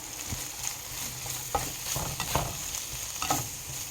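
Spicy sausage fries in a pan, giving a moderate sizzle while a spatula scrapes and pushes it around in irregular strokes, close and clear.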